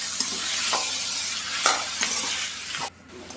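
Tomato chutney with turmeric and salt cooking in a pan gives a steady close sizzle, broken by a few soft scrapes of stirring before it drops quieter near the end.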